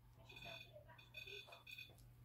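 Steady high electronic beeping tones, a few close together, sounding over a low hum with faint murmuring voices.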